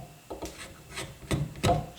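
Short rasping strokes of a tiny drawknife paring shavings off a wooden edge, four or five quick scrapes close by, each a brief dry rub with pauses between.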